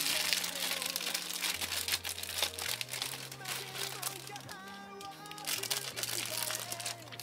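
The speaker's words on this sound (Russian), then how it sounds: "Также есть такой пакетик, где у нас лежат запчасти. Давайте все высыпем." A small plastic bag of spare parts for a Gaiking Revoltech figure is poured out, its crinkling and the rattle of small plastic pieces coming in bursts close by, with background music playing underneath.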